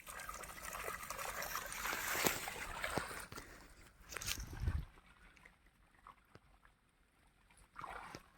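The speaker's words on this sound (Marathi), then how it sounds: "आवरच नाही पाणी, इतकं स्पीड आहे पाण्यात." Fast water surges into a farm irrigation canal during summer mango-orchard watering, making a rushing, gurgling wash that is fairly faint overall and drops to a softer trickle partway through, with no talk.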